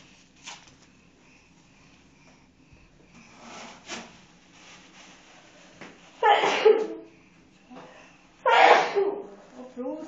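Two loud, explosive human sneezes burst out a couple of seconds apart near the end, preceded by quieter sniffs, breaths and faint murmuring speech in a quiet room.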